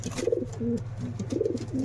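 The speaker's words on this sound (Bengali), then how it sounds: "এদিকে কিং কবুতর ডাকছে" A King pigeon coos nearby in two low, throaty phrases separated by a brief pause, with a faint steady hum underneath.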